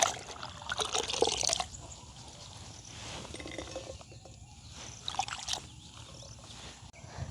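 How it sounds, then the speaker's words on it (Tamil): Water splashing and trickling as eggplants are rinsed and washed by hand in a village kitchen, with close sloshing bursts near the start and again midway, then quieter dribbling between. "நாங்கள் துப்புரவாக்கி கழுவி எடுத்துட்டோம்"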